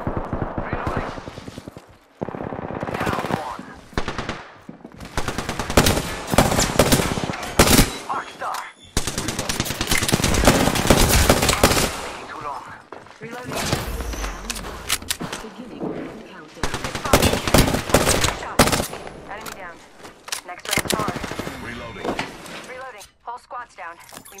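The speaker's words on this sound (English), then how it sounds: "They're shooting at me." Automatic gunfire from an Apex Legends match, with dense bursts and sustained volleys that come and go over about twenty seconds, loud and close, with game voice callouts over the shooting.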